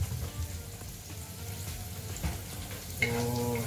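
Onion and garlic fry in a pan for a Filipino pork and bitter melon dish, giving a steady, close sizzle with faint background hum throughout, no talking.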